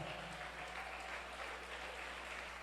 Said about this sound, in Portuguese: Quem ama a palavra de Deus, aplauda ao Deus desta palavra.